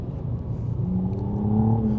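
A McLaren sports car accelerates hard on a track, a close engine note rising in pitch as it climbs through the revs, steady and strong with no talking.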